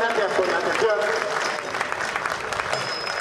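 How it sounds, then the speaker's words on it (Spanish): Audience applause at a historical reenactment: sustained clapping from a crowd fills the scene, steady and fairly close, with a voice briefly speaking over it. "un aplauso a los dos"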